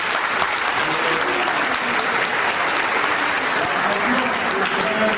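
Dense, loud applause and acclaim from a university audience at a blood donation drive, greeting the minister, continuous and close, with voices mixed into the crowd noise.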